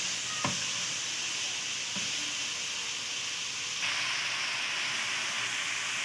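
Chicken and vegetables with spices stir-fry for chow mein in a hot pan, giving a dense, continuous sizzle. A few sharp clacks of a utensil against the pan break through it, close up and with no one speaking.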